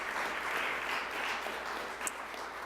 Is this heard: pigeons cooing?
no